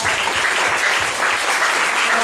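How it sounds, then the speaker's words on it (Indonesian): Church congregation at a seminar in Sentani, Jayapura, Papua clapping together, a dense, loud, steady wash of applause with no pause, heard on its own without voices. "Berikan tepuk tangan bagi Tuhan Yesus"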